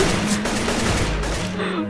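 Counter-Strike: Global Offensive gunfire in a competitive round, a dense, loud burst of shots blurring into a continuous roar across the whole moment, close and unbroken, with no talking.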